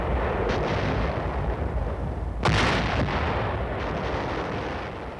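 Artillery barrage firing, a dense continuous roar of distant guns with one loud nearby blast cutting through midway and further bursts fading into the rumble.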